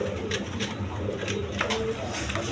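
Colored domestic pigeons kept in pairs, including a single Danish hen sitting on eggs, cooing steadily in low murmuring calls nearby, with faint background voices.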